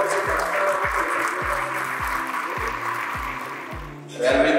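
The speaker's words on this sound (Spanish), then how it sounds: "con un fuerte aplauso felicitar a cada uno de los atletas" A crowd at a Guatemalan Olympic Committee gathering applauds the athletes in a steady wash of clapping, over a regular low thumping beat, ending with a brief louder burst.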